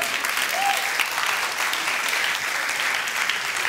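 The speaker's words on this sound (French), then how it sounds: "on peut les applaudir quand même" An audience claps steadily and loudly throughout, a dense continuous wash of applause.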